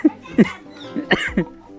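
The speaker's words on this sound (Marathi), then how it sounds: "हे खोकलो आता" A few short, sharp coughs from someone close by, spaced out over a couple of seconds with a quiet pause between them.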